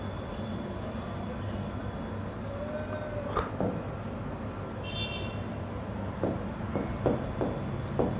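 Writing on a board during a Sanskrit literature lesson: faint scratchy strokes in short bursts over a steady low room hum, with a few sharper taps near the end.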